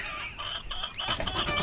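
A chicken clucks as a sound effect in a read-aloud children's story, several quick bright clucks close up over a steady background, with no speech.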